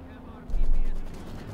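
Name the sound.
Maxim machine gun firing in video game Company of Heroes 2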